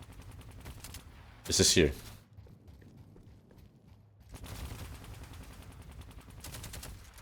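Gunfire in the Deadlock video game, a loud brief burst of rapid shots followed later by quieter continuous automatic fire, with someone speaking briefly.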